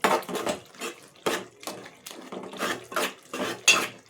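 A spoon mashes and stirs soft cooked tomatoes in a pan for egg curry, giving repeated close scraping and squelching strokes in an irregular rhythm.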